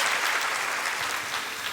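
A church congregation claps in sustained applause throughout, a dense, steady patter of many hands filling the room.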